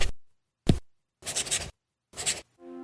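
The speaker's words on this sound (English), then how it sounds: "It's the sound of the new Remarkable Paper Pro" A stylus writes on a reMarkable Paper Pro paper tablet in short, close, scratchy strokes, four bursts separated by silence, ending on a faint tonal trail.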